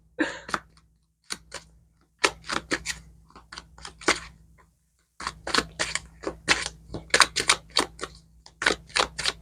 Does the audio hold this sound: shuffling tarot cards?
yes